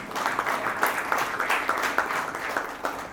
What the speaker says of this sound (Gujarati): એમના માટે જોરદાર તાળીઓ એકવાર